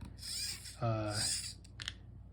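A servo motor pulls the looped strings on a 3D printed robotic hand, making a short buzzing whine that starts and stops abruptly, with soft rubbing and scraping around it. It sounds close and quiet.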